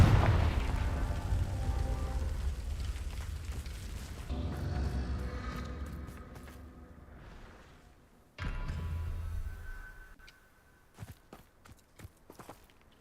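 Confringo blasting spells exploding in Hogwarts Legacy, a fantasy action game: heavy, rumbling booms with long decaying tails, one following another, then a sudden fresh blast and a few lighter crackles at the end.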